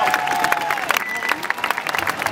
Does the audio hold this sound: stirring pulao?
no